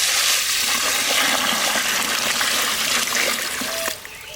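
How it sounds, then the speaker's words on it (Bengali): Cold water gushes and splashes steadily into paddy rice as it is soaked, loud and close, then tapers off near the end. "দানের মধ্যে ঠান্ডা জল ডাইলে ভিজিয়ে থাকবো"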